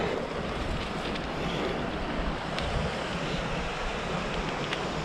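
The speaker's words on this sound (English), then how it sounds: "Nice bit of a waterfall there." Rushing waterfall on a river beside an old railway platform on the Longdendale trail near Crowden, heard as a steady broadband wash of water blended with gusty wind noise, with no talking.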